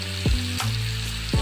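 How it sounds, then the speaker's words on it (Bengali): Potatoes sizzle steadily in hot oil in a pan, a close, continuous frying hiss with faint stirring clinks. "এই আলু ভাজা হচ্ছে যখন"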